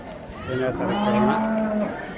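A cow moos once, close and loud, with a drawn-out lowing call at a crowded cattle market in Kalghatgi, faint crowd chatter underneath.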